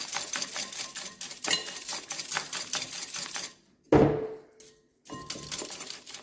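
Egg whites being whisked until frothy for almond macaroons: a quick, steady clatter of a whisk against a bowl, pausing briefly before starting again.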